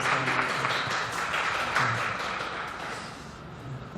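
A church congregation claps together, a dense, even patter of many hands filling the room for several seconds before tapering slightly toward the end.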